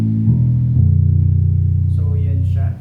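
RJ x Traben 5-string bass guitar with active electronics switched off, played unplugged tone: a sustained low note rings steadily for nearly three seconds, then cuts off, with faint higher overtones near the end.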